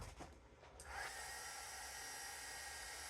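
A heat tool blasts hot air onto paint on a craft piece, switching on after a brief quiet start and holding a steady, loud hissing roar.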